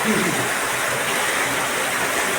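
Water gushing strongly from a side borewell drilled into a farm well, a steady broadband rush like a waterfall that fills the whole short stretch without pause.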